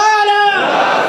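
A congregation at an Eastham community centre qasida gathering chants a loud unified response to the At-Takbir call, a sustained voiced crowd shout that breaks into a broad noisy roar.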